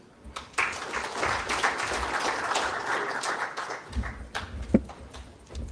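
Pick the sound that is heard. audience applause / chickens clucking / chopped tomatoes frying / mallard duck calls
audience applause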